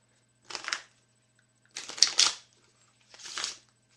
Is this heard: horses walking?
no